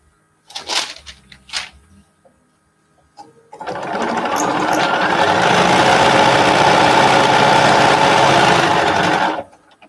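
A quilting sewing machine starts after a few soft handling sounds and runs steadily at high speed for about six seconds, a loud, continuous whir, then stops.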